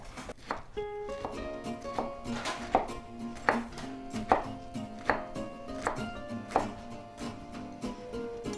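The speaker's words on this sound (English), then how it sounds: "Now we're going to move our kale over here, and we're going to chop it." A knife chops kale on a board in a quick, steady run of crisp thuds, close up and fairly quiet, with a faint tonal ring beneath the strikes and no voices.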